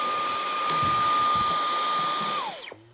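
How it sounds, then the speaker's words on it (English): Small vacuum cleaner runs with a steady high whine and motor hum while cleaning the top of a Lego display, then spins down and cuts off near the end. "But first I might vacuum the top of my factory."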